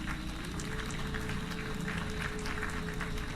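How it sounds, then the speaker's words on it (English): A round of applause breaks out for a guest on a comedy podcast, a short burst of clapping heard over a steady low hum and tonal background noise. "Round of applause for Stephen Rhodes."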